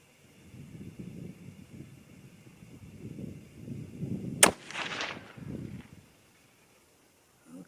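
A single sharp rifle shot firing a 129 grain Hornady Interlock load at a range, close and loud, with a brief echo rolling off afterward over wind and rustling noise.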